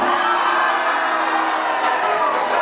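Students in a school hall cheer for couple number two at a competition, a steady roar of crowd shouting and whooping holding at full strength.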